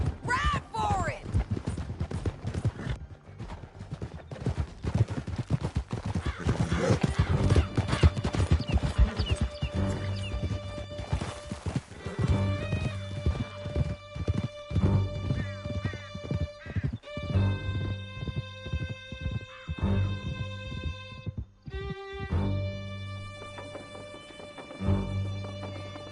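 Horses galloping hard through a canyon in Red Dead Redemption 2, hooves clip-clopping under a loud game score, shouting voices and a crash, with a horse whinnying amid the chase.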